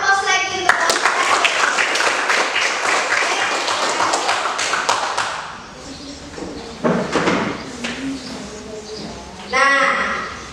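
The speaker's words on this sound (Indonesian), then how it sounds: "Kita berikan aplaus lagi untuk kelompok 4." A classroom of students in Indonesia claps for a group that has just finished presenting. The sharp, close clapping fills the first half, then thins into scattered claps and shuffling, with voices murmuring and a last short burst of applause.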